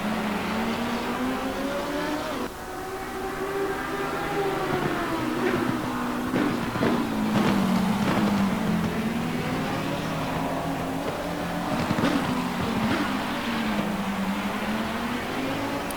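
A McLaren 650S GT3 race car with a 5.28-litre engine, heard from onboard during a race at Circuit Zolder, runs steadily and loudly, its engine note rising and falling through gear changes and revs with a few sharp shift blips.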